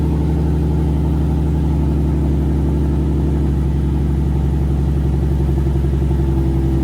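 An Infiniti G35 coupe engine runs steadily at its first start after a manual transmission swap, a loud, close, even idle with a low rhythmic throb and no talk.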